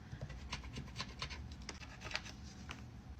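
Scissors cutting 2.5-inch squares from a thrifted pillow sham being made into a tote bag, a close, quiet run of irregular snipping and rustling fabric strokes over a few seconds, with no talk.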